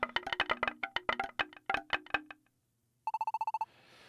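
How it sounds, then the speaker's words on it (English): Chiming school bell from the video game Pokemon Super Mystery Dungeon: a fast run of bright ringing tones for about two seconds, a short gap, then a quick burst of repeated electronic pulses, with no talking. "Alright, class, that's the bell."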